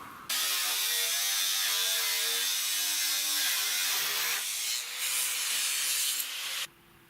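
An angle grinder mounted on a carriage cuts through metal with a loud, sustained high whine and rough grinding rasp, the pitch sagging briefly mid-cut before it shuts off abruptly.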